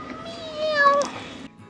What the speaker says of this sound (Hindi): हम लोग को दिख रही है क्यूट सी बिल्ली।